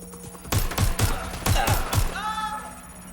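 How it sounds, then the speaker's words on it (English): A burst of rapid, loud gunfire rings out in a Watch Dogs Legion shootout, six or so close shots in quick succession over a low game hum, followed by a ringing tail. "Suspect shooting."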